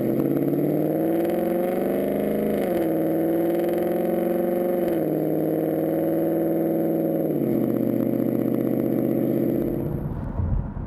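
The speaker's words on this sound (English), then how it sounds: "You just hear the exhaust." Ford Mustang GT with a resonator-delete X-pipe exhaust holds a loud, steady V8 note while cruising on the highway, with small rises and dips in pitch as the throttle shifts, then it eases off at the end.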